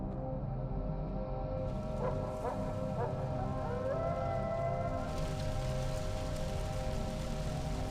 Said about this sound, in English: Another dog. Another goddamn dog.